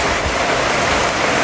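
Heavy rain pours steadily on an outdoor house construction site in the afternoon, a dense, loud, continuous hiss of drops striking surfaces with no voices.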